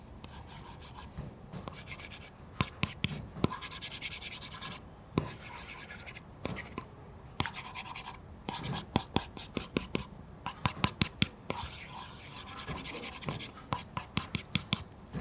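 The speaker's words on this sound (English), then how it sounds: "And now compare it to the Apple Pencil and the paper." An Apple Pencil drawing on a homemade paper-like screen protector gives a close, soft rasping rub in uneven bursts and a run of short rapid strokes, quiet and with no voices.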